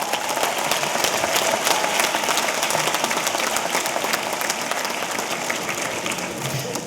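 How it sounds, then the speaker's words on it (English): An audience at a college commencement claps in sustained applause, a dense, even wash of many hands in a large hall that holds steady throughout. "We should give them a round of applause."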